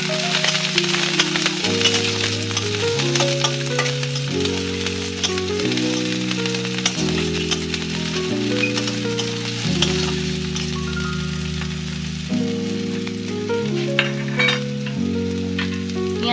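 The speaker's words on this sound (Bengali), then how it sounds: "পেঁয়াজটা একটু ভাজা ভাজা করে নেব।" Chopped onion frying in a little oil in a hot kadai, a loud continuous sizzle with crackling, and the scrape and clink of stirring as a rhythmic pattern throughout, with no talking.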